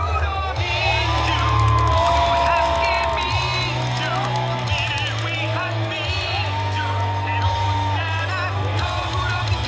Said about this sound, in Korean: 가장 큰 함성과 박수를 부탁드립니다.